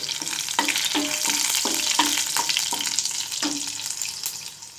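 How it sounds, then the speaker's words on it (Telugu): Curry leaves and green chillies frying in hot oil in a pan for a cabbage curry, a continuous close sizzle with soft repeated stirring scrapes and no talking. "కరివేపాకు తర్వాత పచ్చిమిర్చి వేయాలి ఆ రెండు వేగుతూ ఉన్నాము"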